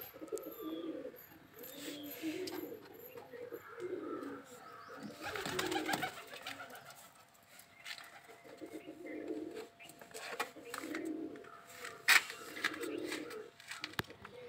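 Shirazi pigeons coo repeatedly in soft, rhythmic bursts, fairly close, with faint chirps and background rustling between the calls.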